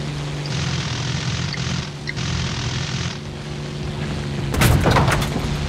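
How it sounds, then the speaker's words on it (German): War Thunder aircraft combat: a steady propeller drone runs throughout, with faint rattling bursts early on and a louder cluster of sharp gunfire impacts near the end. "Ah, ich werde beschossen."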